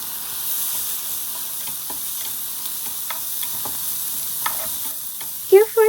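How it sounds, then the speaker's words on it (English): Enoki mushrooms, carrots and chopped green onion stir-fry with soy sauce in a pan, giving a soft steady sizzle with faint scraping stirs and a couple of sharper clinks near the end, no voices. "Add 1 teaspoon of soy sauce and stir fry them."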